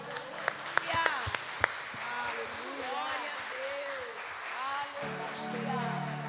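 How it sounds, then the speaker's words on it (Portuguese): A church congregation claps through a lively worship service, scattered sharp claps standing out over a steady wash of applause while a voice speaks and calls out over it. "Aplauda bem forte ao Senhor."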